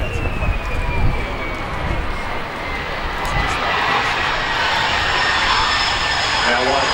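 An F-35 fighter jet lands at the Avalon Air Show using aerodynamic braking, a loud continuous engine roar and rushing whine that swells and holds steady, with voices speaking over it.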